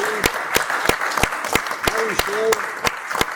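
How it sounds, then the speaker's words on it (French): A school board meeting audience applauds the school office team with scattered, distinct claps spaced apart rather than a dense ovation, while voices carry on underneath throughout. "J'aimerais vous applaudir."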